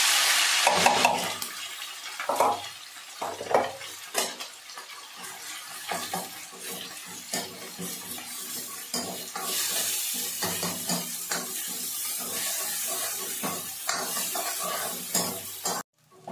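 Grated green chilli, ginger, garlic and onion frying in hot oil with cumin and asafoetida, a steady sizzle with repeated stirring scrapes and clatters close by, no voices.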